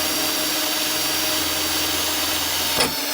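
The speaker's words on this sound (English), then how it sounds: "and now we're gonna drill." A steady, loud whirring drone of a power drill running continuously while drilling holes in a metal bracket, ending with a brief clunk near the end.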